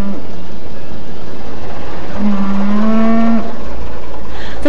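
Cattle at a 1930s livestock market in Norwich, heard on archive film: a single long, loud moo dominating the middle of the clip over a rough, noisy background.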